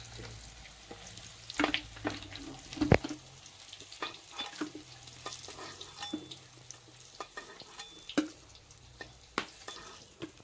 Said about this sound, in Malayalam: ഇനി കുറച്ചും കൂടി ഉണ്ട് ഫ്രൈ ചെയ്യാൻ ബാക്കി